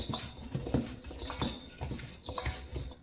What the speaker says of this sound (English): I'm going to toss those around, get them all coated good